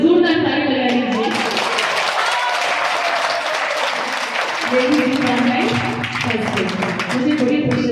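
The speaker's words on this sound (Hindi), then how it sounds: "जोरदार ताली लगा लीजिए।" Loud applause from an audience at a Faag Utsav bhajan gathering held on International Women's Day, sustained clapping filling the whole stretch with some talk mixed in.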